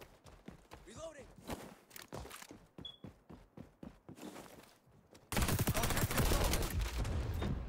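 Gunfire in a video game: a string of sharp shots and bursts in rapid, uneven rhythm, then a louder, denser stretch of noisy action toward the end, with a voice mixed in.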